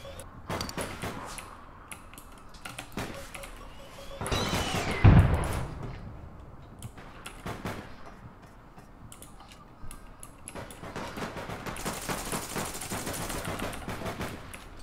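Automatic gunfire from a rifle in the online shooter APB Reloaded, sounding as rapid bursts of shots over busy game sound, with one loud heavy blast midway and rattling fire continuing to the end.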